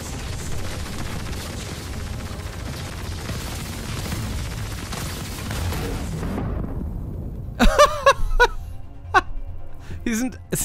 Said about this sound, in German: Sie sind alle explodiert.